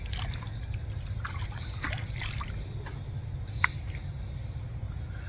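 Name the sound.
water rinsing a razor during a shave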